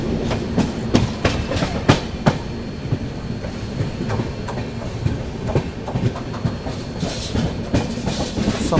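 Delhi–Rajgir Shramjeevi Express rolls along after leaving Lucknow, with steady rhythmic clickety-clack of wheels over rail joints, loud and close, and a continuous rumble from the carriages.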